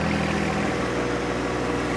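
A John Deere 1025R compact tractor engine idles nearby with a steady, moderately quiet hum, alone for a couple of seconds.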